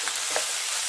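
Ginger, cashews, onions and peppers frying in a pan, a short burst of even sizzling with a couple of faint stirring scrapes.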